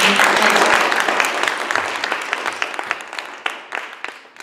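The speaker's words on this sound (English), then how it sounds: "join me in giving a round of applause and thank you" An audience applauds at a nominee presentation event, a dense burst of clapping that thins out into scattered individual claps as it fades.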